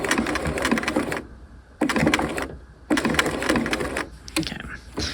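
A sewing machine runs a lock stitch on a half-scale jacket with bound buttonholes and piping, in three fast whirring bursts separated by brief pauses, close and fairly loud.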